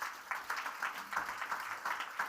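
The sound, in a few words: audience applause for a panel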